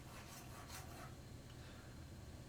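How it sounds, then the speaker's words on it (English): A hand file rasps against a metal folding knife in a few quick strokes, then the rubbing continues more softly and evenly, close up and with no voices. "I'm going to file it."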